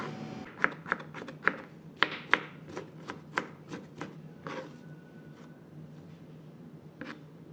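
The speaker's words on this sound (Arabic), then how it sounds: "هنا بقطع كوسة" A knife chops zucchini on a cutting board in a run of crisp, uneven thuds, close and clear at first, then thinning out toward the end.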